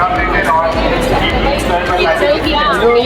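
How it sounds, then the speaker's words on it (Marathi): A dense, steady hubbub from a large crowd gathered at the Shivaji University convocation ceremony, many overlapping voices close by with no pauses. "एवढी गर्दी आहे इथं"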